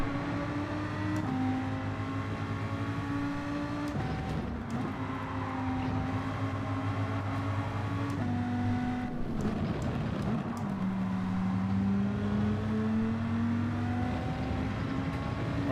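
A four-wheel-drive race car engine revs in a Gran Turismo 7 race, a steady loud drone whose pitch climbs and drops through gear changes across the lap, with no talking.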